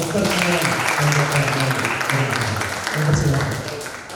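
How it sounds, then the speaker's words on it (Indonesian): Audience applause for two guest lecturers at a university guest lecture, a steady crowd clapping that runs the whole time, with a speaking voice faintly mixed in. "Sekarang kita berikan aplaus untuk beliau berdua"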